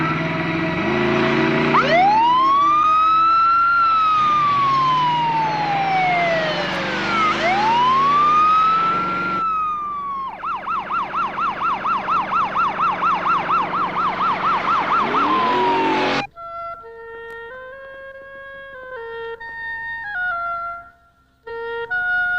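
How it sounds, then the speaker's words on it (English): An emergency vehicle siren wails loudly in long rising and falling sweeps, shifts into a rapid yelp, then gives way to a quieter two-tone pattern before cutting out briefly near the end. "Hit the siren."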